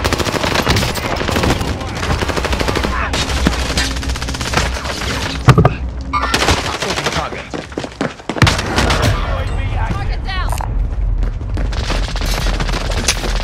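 Shootout in a video game, dense machine-gun bursts and rapid gunfire rolling almost continuously, with booming impacts around the middle, loud and close, while a voice talks faintly underneath.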